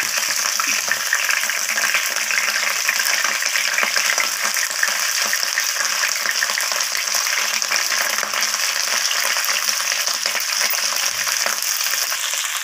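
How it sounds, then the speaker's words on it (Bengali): Cauliflower florets stir-fried in hot oil, a steady broad sizzle running throughout with soft scraping of a spatula as the pieces are turned, close and fairly loud with no talking. "কপিগুলোকে আমি তেলের মধ্যে দিয়ে এইভাবে একটু নাড়াচাড়া করে নিচ্ছি।"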